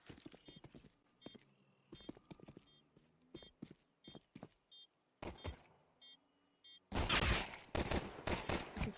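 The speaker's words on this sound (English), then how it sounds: "nice shot from Gaffalo" Scattered gunshots and a final heavy burst of rifle fire from an esports shooter match in an ESL Challenger League game, with sharp cracks spread through quieter moments before a loud sustained volley near the end.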